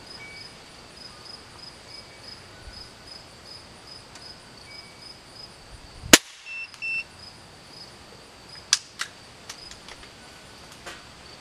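A single sharp gunshot cracks out once through a shooting chronograph, loud and close against a steady outdoor chorus of crickets, followed a few seconds later by a handful of faint, quick clicks.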